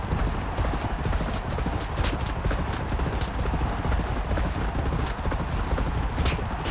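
Racehorse hooves gallop in the Champion Jockey video game: a fast, steady drumming of hoofbeats that stays loud and close from start to finish, with no voices over it.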